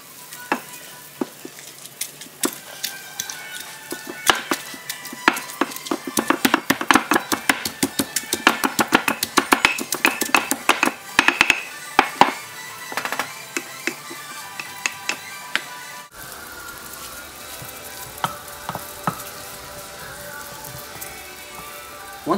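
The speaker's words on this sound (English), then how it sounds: "You can use any method to shred your chicken. In this case, I use a mortar and pestle." Cooked chicken is pounded and shredded with a mortar and pestle for Hmong khaub piaj soup, giving a long run of dense, rapid knocks and scraping crunches that slow into scattered taps near the end, with no talk.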